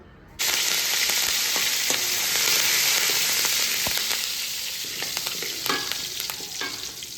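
Whole spices fry in coconut oil for a South Indian fish curry, a loud, steady sizzle that starts abruptly and carries on close up with small crackles and occasional utensil clinks, no speech.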